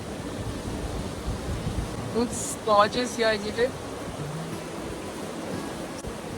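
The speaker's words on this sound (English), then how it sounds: "You hear the sounds of the Little River?" A small river flows in Pahalgam, Kashmir, giving a steady broadband rushing wash that runs throughout, while a person speaks briefly over it near the middle.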